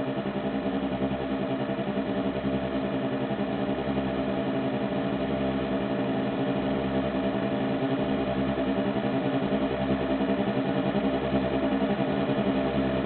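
Simulated bikes in a 3D Mars-habitat agent simulation give off a loud, continuous engine drone that pulses steadily with no break and no voices.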